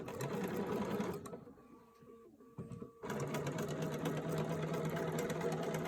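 A sewing machine stitches an applique made with fused interfacing paper along a marked line, running in a steady close whir, pausing briefly for about two seconds with small clicks, then resuming at full speed.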